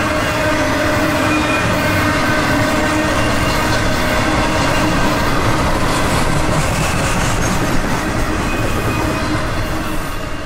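CSX freight train QO25 rolls through Cordele, Georgia, a loud, steady rumble of railcars and wheels on track passing close by without letup.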